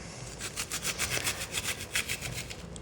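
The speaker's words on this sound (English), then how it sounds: "And then I'll just cut across the other way." A knife finely chops onion on a cutting board in quick, even, rhythmic strokes, each cut a crisp, close tap.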